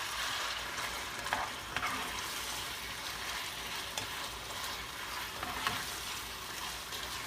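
Thin-sliced beef stir-fries in a hot pan for a beef and broccoli dinner, a steady close sizzle broken by occasional scraping stirs, with no talking.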